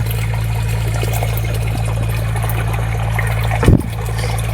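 Water gushing from a newly drilled village borewell, a steady rushing flow over a constant low machine hum, with a brief louder knock near the end.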